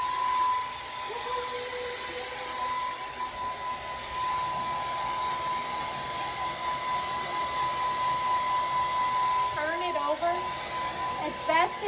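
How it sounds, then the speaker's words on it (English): A hair dryer blows on hair in a steady, loud whir that runs throughout, with brief rustling and handling noise near the end. "next we gotta dry and straighten the hair"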